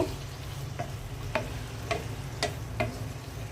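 Eggplant and potatoes sauté in a hot pan, giving a steady low sizzle broken by five or six sharp scraping stirs of a spatula at a slow, uneven pace.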